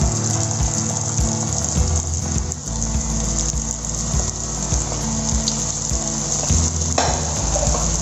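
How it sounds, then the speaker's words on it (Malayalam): Banana spring roll samosas dropped into hot oil, sizzling and bubbling loudly and continuously at close range, with occasional sharper crackles and pops. "അപ്പം നമുക്കിനി ഇത് ഫ്രൈ ചെയ്തെടുക്കണം"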